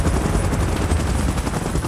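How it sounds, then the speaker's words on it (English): A helicopter in the PUBG video game, in a Godzilla and King Kong mode, gives off a steady, loud, dense rotor roar that fills the whole moment. "Chopper in position."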